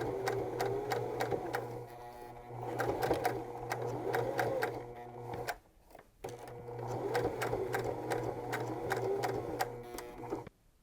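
A sewing machine stitches a three-layer fabric face mask with a steady, rapid mechanical clatter and hum close by, runs for about five seconds, pauses briefly, then resumes at the same pace.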